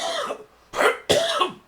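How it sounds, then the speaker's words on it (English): A man's harsh coughing fit comes in three bursts, one short cough and then two heavier, rasping ones close together, loud and near. "God damn this fucking cough"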